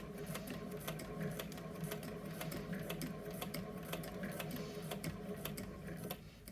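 Vintage hand-crank sewing machine stitching a fabric cover, a quiet, close, steady run of rapid mechanical ticks and clatter from the needle and presser foot, with no voices.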